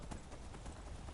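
Horse hooves clopping in the video game Skyrim, a steady run of quick, muffled hoofbeats at moderate level, with low rumbling underneath and no voices.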